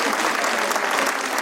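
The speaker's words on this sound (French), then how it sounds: "Je crois qu'on peut l'applaudir" Audience applause at a New Year's greetings ceremony in Valdoie, a dense, steady wash of many hands clapping at full volume throughout, with no voices heard.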